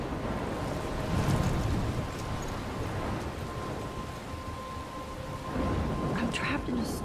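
A thunderstorm in Life is Strange roars with heavy continuous rain and low rumbling thunder that swells twice, a loud dense wash filling the whole scene.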